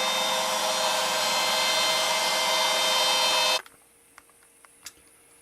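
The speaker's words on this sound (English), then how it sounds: "Using a 1/4 inch ball nose router bit." CNC router milling with a 1/4 inch ball nose bit on a carving machine, a loud steady high whine that cuts off abruptly after about three and a half seconds, leaving quiet with a few faint clicks.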